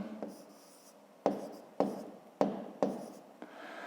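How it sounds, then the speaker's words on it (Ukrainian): A pen writing on a drawing for a fifth-grade maths exercise: a series of five or six short scratchy strokes, each starting sharply and trailing off, close and fairly quiet, with no speech. "Давайте я на ньому напишу"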